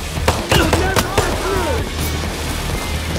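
Several sharp gunshots crack in quick succession early on in a Payday 3 heist, over a loud constant background din, with a voice talking across it.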